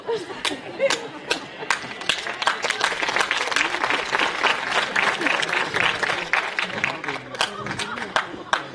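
An audience claps in an open amphitheatre during a theatre performance, sharp individual claps scattered over a denser round of applause, with some crowd murmur underneath.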